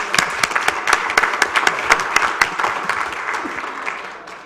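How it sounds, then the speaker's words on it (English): An audience at a city council meeting claps, a brief burst of applause from a modest crowd that fades out over a few seconds. "You deserve a round of applause as well for all"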